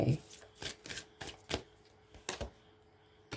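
Tarot cards being shuffled and drawn: a run of quick, crisp riffling and snapping bursts, close and fairly quiet, in an uneven rhythm of about eight flicks.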